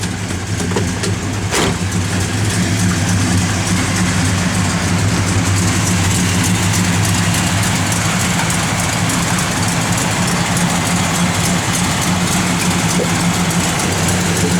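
A 1968 Dodge Coronet R/T V8 idles steadily at close range, giving a loud, continuous low rumble with no break and no talking over it.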